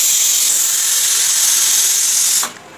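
Water used to rinse spices is poured into a hot pan of chicken curry, raising a loud, sustained steam hiss close by that cuts off sharply near the end.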